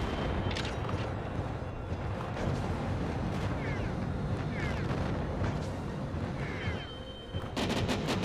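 Steady barrage of mech weapons fire in Mecha Knights, dense and continuous with booming impacts throughout, a little quiet in the mix, with brief speech over it.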